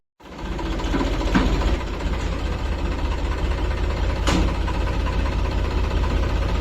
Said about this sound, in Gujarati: ટ્રેક્ટર કોડિયામાં પડ્યું છે તો બહાર કાઢે છે